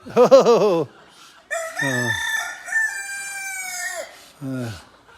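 A hen calling loudly nearby: a short wavering squawk, then a long drawn-out cry, and a brief cluck to finish.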